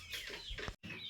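Improved kienyeji hens clucking nearby in a farm setting, a few short rising clucks and calls across about a second, with a brief gap near the end.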